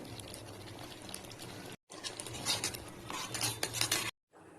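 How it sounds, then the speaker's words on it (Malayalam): Thick coconut milk with cardamom powder is stirred in a pot as it reduces for a sweet kozhukattai dish, giving close scraping, swishing spoon strokes in a steady run that pauses briefly twice. "അതിനുശേഷം നമ്മൾ എടുത്തു വെച്ചിരിക്കുന്ന ആ 1ാം പാലും കൂടെ ചേർത്ത് ഇതുപോലെ ഒന്നുകൂടെ ഒന്ന് ഇളക്കി കുറുക്കി എടുക്കാമേ"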